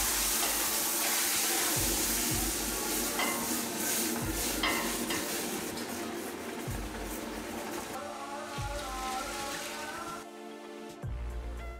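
Boiling water and bone broth pour into a hot pan of browned onions and caramelised sugar with a steady hiss and sizzle, punctuated by a few soft clunks of utensils.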